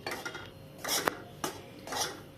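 Wheat flour dry-roasting in a pan for sheera, with a spoon scraping and clinking against the metal in short irregular strokes, close and moderately quiet, no talking.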